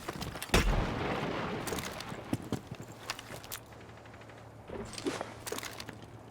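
Rapid gunfire from a shooter video game: a dense run of sharp shots with one heavy blast near the start, then scattered bursts over a steady low hum.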